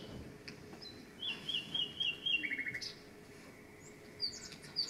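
A nightingale in an animated cartoon sings a short run of bright chirps and trills in the middle, moderately loud over a soft outdoor evening background.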